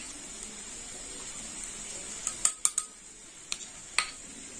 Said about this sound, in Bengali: এইভাবে চিপে চিপে দেবো চামচ দিয়ে